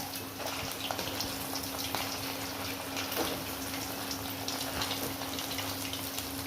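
Chicken pieces frying in a small amount of oil in a pan, a steady soft crackle and sizzle with scattered pops, fairly quiet and continuous, with no one talking.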